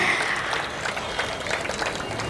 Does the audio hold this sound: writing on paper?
no